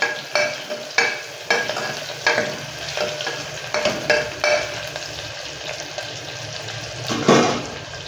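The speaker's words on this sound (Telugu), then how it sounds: "ఇప్పుడు వచ్చేసిందను ఆనియన్స్ వేసేసుకున్నాం. సో ఆనియన్స్ కొద్దిగా కలర్ చేంజ్ అయ్యే వరకు వేసుకున్నాం." Onions fry in oil inside a pressure cooker, with a soft steady sizzle under repeated scraping stir strokes that come in a loose rhythm, close and moderately loud.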